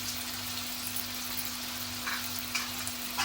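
Asafoetida hitting hot oil in a home kitchen pan while cooking a festival offering meal, giving a steady, fairly quiet sizzle with faint crackles and a low background hum.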